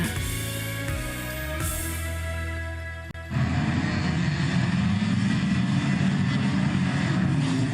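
Racing cars at Grimley Raceway, a Worcestershire track, a steady tonal engine drone that cuts abruptly into a louder, rougher roar of engines continuing to the end.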